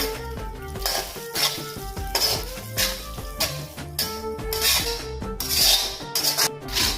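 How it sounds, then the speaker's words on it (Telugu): Cut idli pieces tossed with chili powder in a pan for a quick spicy idli snack, giving repeated scraping, stirring and rubbing strokes with soft sizzling and clinks against the pan, close and steady throughout with no talking. "ఇప్పుడు మనం కట్ చేసుకున్నటువంటి ఇడ్లీల్ని ఇందులో వేసుకోవాలి."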